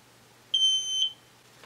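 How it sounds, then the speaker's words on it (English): LED nail lamp from a Sensationail gel kit giving a single clear, high-pitched electronic beep of about half a second in an otherwise quiet room. "The lamp will beep after 30 seconds"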